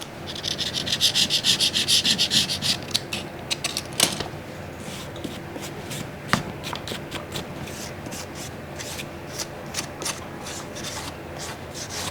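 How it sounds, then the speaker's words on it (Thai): Dust and debris are scraped off the body of an iPad Air 3 during a repair, giving a close, dry rubbing scrape that repeats in quick strokes, loudest at first and then easing into lighter, scattered scratches. "นี่ต้องขูดออกให้หมดนะคะ พวกเศษฝุ่นเศษผงอะไรพวกนี้"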